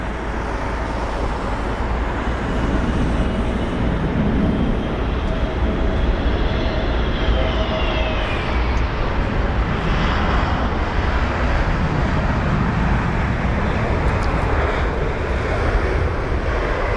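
At London Heathrow airport, a jet aircraft fills the air with a loud, continuous broadband roar, with a faint rising and falling whine drifting across the steady rumble.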